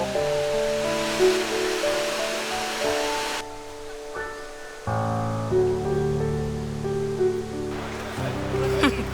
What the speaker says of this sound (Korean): 비 오면 생기는 폭포라는 게 신기한 거지.